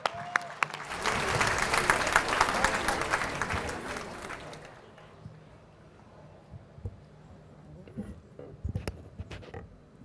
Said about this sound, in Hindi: जोरदार तालियों के साथ पॉपुलर बेरेडी जी का स्वागत कीजिए